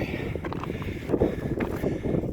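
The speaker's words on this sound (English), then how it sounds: "The wind's picking up." Wind picks up near a mountain top, buffeting the microphone in uneven low rumbling gusts that swell and fade over a couple of seconds, close and moderately loud.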